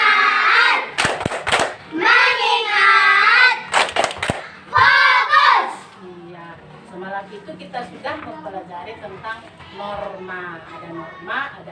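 A school class performs the tepuk fokus clapping chant, sung voices in unison punctuated by several sharp group claps in rhythm, followed by a teacher talking over quieter room sound.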